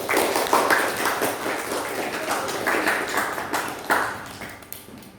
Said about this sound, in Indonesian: Mari kita beri tepuk tangan kepada kelompok 2.